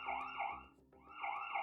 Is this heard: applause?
no